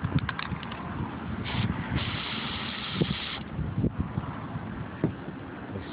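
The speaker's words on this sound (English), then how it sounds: "I might have to cut that tube a little shorter so my spray paint gets down in there" A spray paint can hisses into a tube to coat a golf ball, giving a close, broad, breathy spray lasting a couple of seconds amid faint handling noise.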